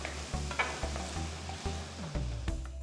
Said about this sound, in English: Saute the tomatoes for about 2 to 3 minutes.